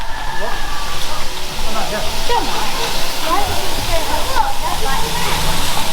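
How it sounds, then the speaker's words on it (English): Steady rushing water roars continuously like a waterfall, a red-coloured waterfall at a theme park, with indistinct chatter from people mixed under the noise. "The red waterfalls there."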